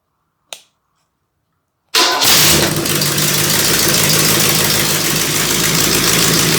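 A warmed-up OMC 235 outboard engine, being repaired, starts after a single click and settles into a steady, loud, close idle that runs evenly for several seconds.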